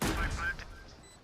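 Gunfire in a Valorant pro match, a burst of shots up front that quickly fades into scattered, fainter stray shots.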